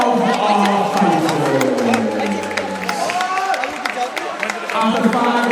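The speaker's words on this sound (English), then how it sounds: "can we please have a big round of applause for both of our fighters?" A crowd at a boxing event gives a loud, sustained round of applause and cheering for two fighters, a dense clapping roar with shouts mixed in. A voice talks over it at the start.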